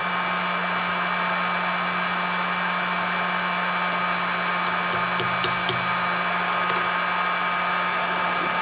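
Heat gun blowing a steady, loud airy roar with a constant hum over a freshly painted goby-pattern fishing jig, unbroken for the whole stretch, with a few faint ticks near the end.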